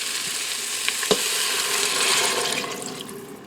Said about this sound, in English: we're going to add some water. I'm using 2 cups of water.